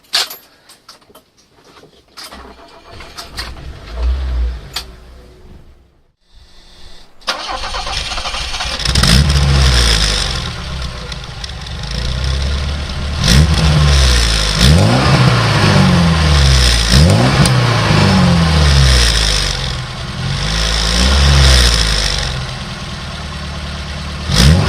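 A 1975 BMW 2002 tii cranks and fires after a few quiet seconds of fumbling, then idles roughly and is revved several times in rising, swelling blips, close and loud.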